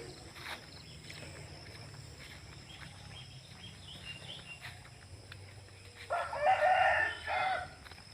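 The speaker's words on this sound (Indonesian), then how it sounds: "Ini sekitar jam 7 masih banyak ayam berkokok." Roosters crow around seven in the morning in a rural clove-growing area, with a faint distant call early on and then a louder nearby cock-a-doodle-doo toward the end over low ambient noise.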